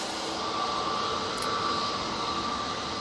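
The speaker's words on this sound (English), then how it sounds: "we do have the Aer Lingus coming in from JFK." An Aer Lingus airliner from JFK on final approach to Manchester Airport during Storm Floris, heard as a steady distant engine roar mixed with wind noise that holds level throughout.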